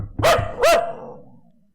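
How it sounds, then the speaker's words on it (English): A dog gives two loud, close barks in quick succession, each ending in a fading tail, with no one speaking. "do you want to have a woof woof break for Looney?"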